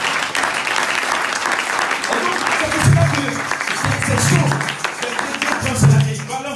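A church congregation applauds during a prophet's service in Meulan, France, with sustained dense clapping filling the space while a voice carries over it.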